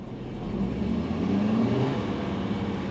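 A Ford diesel engine runs steadily during a service-tool-commanded DPF regeneration, a low, even drone that rises slightly in pitch partway through and stays moderately loud and close, with no talking.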